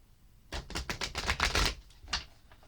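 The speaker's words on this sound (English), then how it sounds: "Shuffle up the cards real quick," Tarot cards being shuffled: a run of quick, crisp papery clicks and riffles close by, then a brief pause and one more short burst, with no talking.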